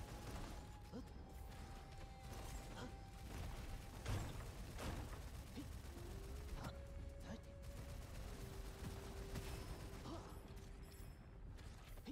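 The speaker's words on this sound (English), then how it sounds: "Real nice machine gun." Machine gun fire in the shooter game Gunfire Reborn, a dense run of rapid bursts over busy game music and mechanical clatter, steady and fairly loud throughout.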